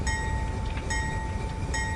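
A CSX locomotive rolls steadily in a Midwest train-driving simulator game, giving a continuous low rumble with a steady tonal whine and light rhythmic clatter, close and even throughout.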